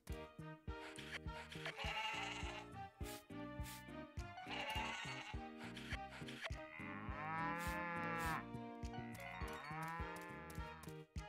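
Cattle in the farm video game Story of Seasons: Pioneers of Olive Town moo loudly in several long drawn calls. Bleat-like cries mix in, all close and continuous, with short clicks between them.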